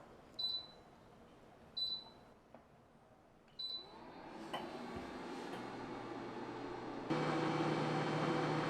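An air fryer set to steam mode at 100 degrees gives three short beeps from button presses, then starts a low running hum that swells into a louder, steady rushing steam noise.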